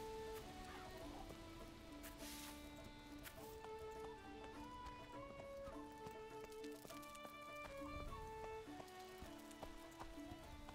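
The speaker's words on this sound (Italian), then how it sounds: "Ma qua piove di brutto." Heavy rain falls in a Fable video game scene, a steady wash of downpour running under layered in-game music with sustained tonal notes throughout.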